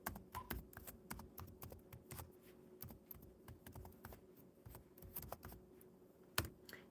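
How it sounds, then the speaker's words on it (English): Quiet, steady computer keyboard typing in close, rapid clicks with a few brief pauses, entering a short greeting and an email address; no voices. "let me type in hello and my email address"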